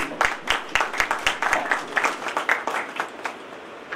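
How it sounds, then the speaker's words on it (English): Audience applause at a Salesforce community conference session in India, a thin scattering of distinct claps in an uneven rhythm that tapers off toward the end, moderately close. "A big round of applause to all of you."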